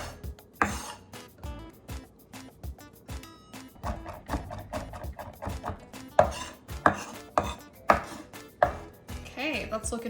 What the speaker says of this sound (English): And then you just mince these up really finely.